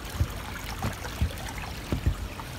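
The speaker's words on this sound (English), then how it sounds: "It's a small creek, not much of a flow," A small, low-flowing creek on the Buckeye Trail in Ohio's Brecksville Reservation in January gives a steady soft wash of water, with a few low gurgling plops breaking through, heard alone and fairly close.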